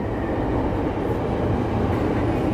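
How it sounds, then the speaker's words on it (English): A Chicago train passes heading northbound, a loud steady low rumble and rolling roar filling the whole moment, with no clear voices over it. "the train's pulling the other way there."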